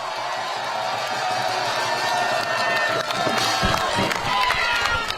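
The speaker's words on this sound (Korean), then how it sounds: "뜨거운 박수로 맞이해 주시기 바랍니다." A crowd at an outdoor election campaign rally in Wonju, South Korea applauds and cheers for a candidate, a steady blend of clapping and scattered shouts that swells louder toward the end.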